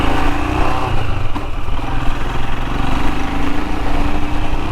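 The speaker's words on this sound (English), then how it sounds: "I like the old clunk of the gearbox on these Enfields, you know when it's in gear." A Royal Enfield Himalayan motorcycle engine running close and loud, a steady thrumming chug with a slight rhythmic pulse throughout and no speech.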